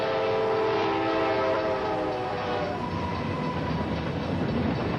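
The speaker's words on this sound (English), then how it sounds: "I felt the train brushing against my clothing as it went by" A train roars past at very close range, a loud continuous rumble with steady tonal hum and rattling wheels, no voices over it.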